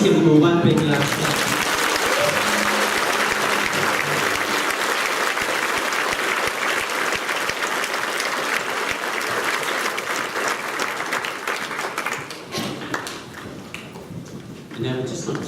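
An audience at a school graduation assembly gives a long round of loud, dense clapping that holds steady for about twelve seconds before thinning out and trailing off.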